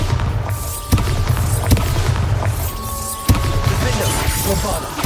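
Bombarda spell explosions in the video game Hogwarts Legacy: booming blasts hit over continuous battle noise, with a sharp burst near the start and another a few seconds later, amid shouted spell incantations.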